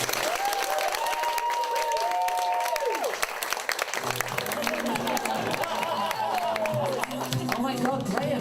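An audience at a comedy show at the 2022 Edinburgh Fringe applauds in a dense, continuous wash of clapping. Faint voices and a rising, falling tonal sound ride over the top.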